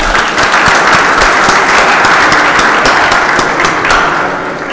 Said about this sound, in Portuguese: solicito a todos que saudemos o pavilhão nacional com uma salva de palmas